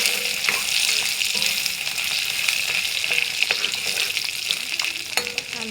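Ginger and panch phoron five-spice fry in plenty of hot oil in a cooking pan. A steady, dense sizzle runs throughout, with a few faint stirring scrapes and no talking.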